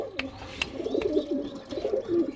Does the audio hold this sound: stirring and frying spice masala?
no